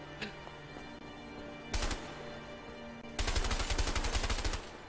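Gunfire in the video game A Way Out: a single burst of shots, then a longer rapid string of automatic fire, loud and close over a steady game background.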